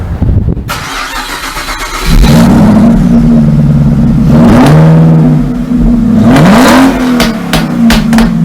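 A Toyota Landcruiser Prado Kakadu starts up on a beach and then revs and accelerates loudly and close. The engine pitch rises through a couple of gear changes.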